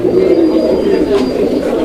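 A Lahori pigeon coos loudly and close by in a caged setting, a low throaty rolling call with a faint steady tone in the background.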